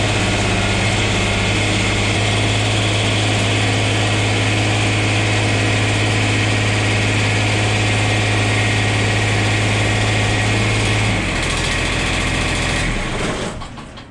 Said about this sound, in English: I'm going to start the tractor up.